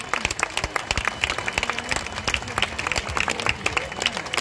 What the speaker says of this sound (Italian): solo applausi per i protagonisti della traversata dell'Ario